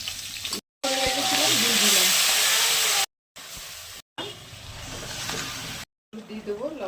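Nigella seeds and two dried red chillies crackling in hot oil, a loud broadband sizzle that breaks off in short gaps and then starts again, with a faint voice now and then underneath.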